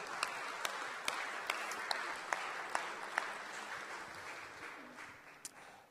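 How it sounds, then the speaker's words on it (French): Applause at the 2012 IMOCA World Championship awards ceremony: a steady wash of crowd clapping marked by a few sharp, regularly spaced claps that stand out, gradually tapering off near the close. "Applaudissements, s'il vous plaît"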